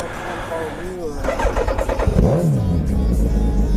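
A 2008 Suzuki Hayabusa motorcycle engine fires up and revs in a few rising bursts, loud and close, with talking in the background.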